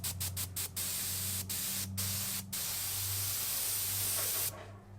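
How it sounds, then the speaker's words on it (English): Steady hissing spray of acrylic paint from an airbrush onto an AMT Chevy 3100 model, broken by several short bursts early on, over a low constant hum; it cuts off near the end. "So you just kind of get a spray pattern."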